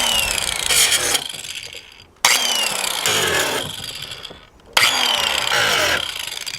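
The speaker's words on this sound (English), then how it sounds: "I'm just going to go through and take all the burrs and any of the stuff that's sharp off the back side of that" A power grinder works burrs and sharp edges off the back of a metal pool wall near a skimmer opening, in three long loud passes, each starting abruptly, holding a harsh scraping whine, then tapering off.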